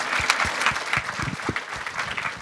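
A room of listeners at a cultural mapping presentation gives a brisk round of applause, close and lively, with scattered individual claps standing out from the crowd.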